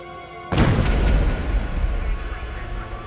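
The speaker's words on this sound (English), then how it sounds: "It exploded with incredible violence, destroying everything in the office" A mail bomb going off in an office, one sudden loud boom that bursts in after a quiet start and leaves a long, rumbling, crackling roar slowly fading away.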